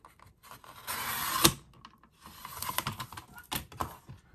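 A paper cutter slices through paper in a few quick rasping strokes with sharp clicks and taps between them, close and fairly quiet, with no voices.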